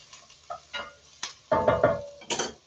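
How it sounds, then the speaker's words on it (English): A few short clinks and scrapes of a utensil stirring onions in a pot for stuffed cabbage soup, close and fairly quiet, with small pauses between strokes. "Give our onions a little stir."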